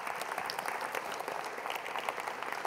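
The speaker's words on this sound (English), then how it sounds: "Let's give Madeline a nice round of applause." An audience at a mathemagics talk applauds a volunteer named Madeline, giving steady, fairly faint clapping from many hands throughout.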